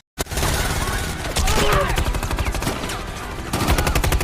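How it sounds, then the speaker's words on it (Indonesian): Heavy gunfire from an action-film shootout in Machete Kills, dense bursts of shots and booms rattling continuously and loudly, with a voice speaking underneath. "Dan tembak-menembak pun terjadi."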